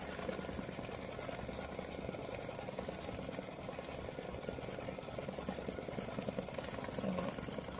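An embroidery sewing machine stitches a decorative design with a rapid, steady mechanical whir and fine needle ticking, running at an even pace close by.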